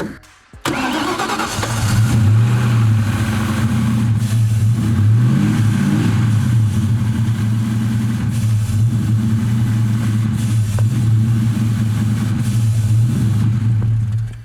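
A car engine cranks and catches off a cheap AUTOONE jump starter booster pack, then runs loudly close by, its idle surging up and down in RPM throughout.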